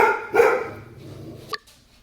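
A dog barks loudly nearby, two or three short barks followed by a sharper yip near the end, heard alone indoors without talk.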